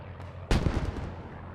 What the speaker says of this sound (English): Good mortar blast. Oh, and a big mortar lands in return there.